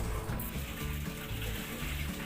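Water runs steadily and fairly faintly at home in a kitchen under renovation, a continuous hissing flow with no voices.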